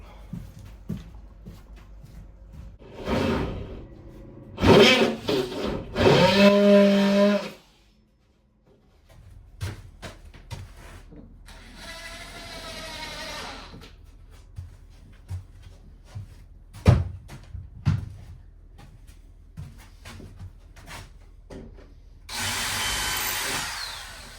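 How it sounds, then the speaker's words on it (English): A multi-tool cuts narrowboat wall boards in several bursts: loud buzzing runs near the start, a quieter stretch of clicks and knocks, then a final buzz at the end. "Perfect. Multi-tool."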